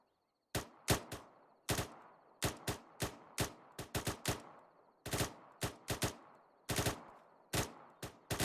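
A rifle fires in rapid succession on a range during a military training shooting test, roughly twenty sharp, loud cracks in quick irregular pairs and runs, each ringing briefly before the next.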